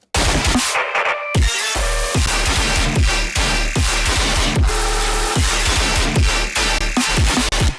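A loud, dense dubstep rock track with guitar and choir, heavy wobbling bass drops and a steady driving beat that fills the whole clip.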